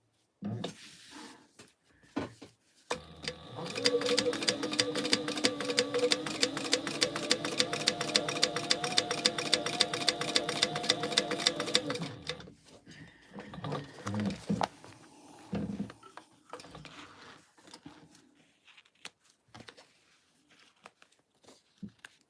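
A sewing machine stitching a line on a gingerbread house gift holder, a steady rapid mechanical chatter running for about nine seconds, close and clear, followed by quiet handling noises and rustling.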